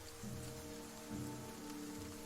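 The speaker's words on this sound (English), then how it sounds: "It's pouring rain" Steady pouring rain in The Banner Saga 2, a dense, even hiss of drops on surfaces under a soft low hum of game ambience, with no voices.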